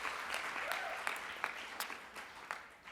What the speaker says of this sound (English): So let's clap for our great women